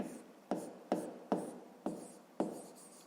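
Pen strokes in a school maths exercise notebook, six short scratchy strokes at a steady rhythm, close and quiet with no talk.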